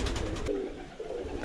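Pigeons in a coop housing a flying team of about 75 birds give soft, low coos against a steady background murmur of the flock, with no talking.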